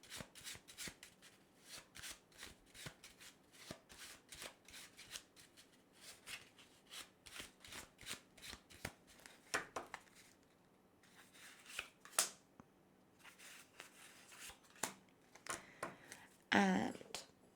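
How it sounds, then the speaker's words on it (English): A deck of tarot-style oracle cards being shuffled by hand, a steady run of crisp riffling flicks and soft slaps, close and fairly quiet, with no talking. "let's take a couple of cards from the Feelings and Messages deck"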